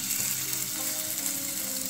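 Snack shallow frying in oil on a griddle over low-medium flame, a soft steady sizzle with faint bubbling tones, quiet and continuous without voices.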